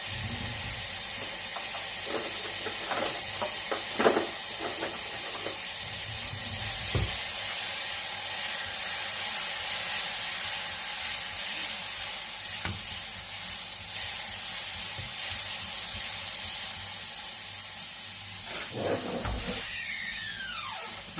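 Garlic paste sizzling in a hot pan for a beef stir fry, a steady loud frying hiss throughout with a few stirring clinks and scrapes, no talking.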